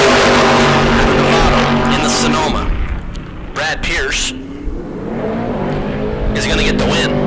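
Race cars, among them an all-white Corvette Roadster, roar past at a drag strip bracket race, engines rising and fading loudly with a tire squeal, while an announcer talks over them.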